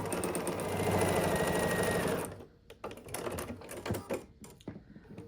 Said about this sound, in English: And then we're going to just sew this together.